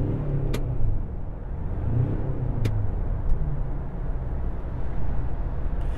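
Engine of a 2021 Ford Ranger Raptor pickup heard from inside the cabin during a performance drive, a steady loud low rumble with faint revving swells throughout.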